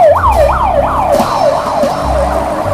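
A white toy ambulance sounds its siren, a loud, close electronic wail rising and falling in quick repeated sweeps throughout, with no talk over it.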